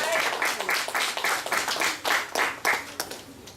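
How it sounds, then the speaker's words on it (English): Hands clap in a quick, fairly even rhythm, like a small crowd applauding, with no voices. "give another strong round of applause"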